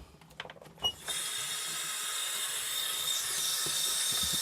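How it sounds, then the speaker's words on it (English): Water runs steadily from a sink tap while a knife and whetstone are rinsed, a broad constant hiss starting after about a second and continuing to the end, preceded by a few clinks and handling knocks. "I'm sorry if you can't hear me too well over the sink. I'm just rinsing everything off."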